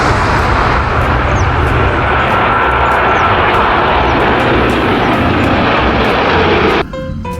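A toy Boeing aeroplane gives a loud, steady jet-engine roar that holds for about seven seconds, then cuts off abruptly near the end.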